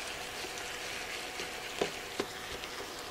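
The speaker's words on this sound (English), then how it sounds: "I'm going to finish browning up the ground beef and softening down those peppers and onions" Ground beef with peppers and onions browning in a pan, a steady low sizzle with two brief clinks or stirring scrapes partway through, close and moderately loud, with no talking.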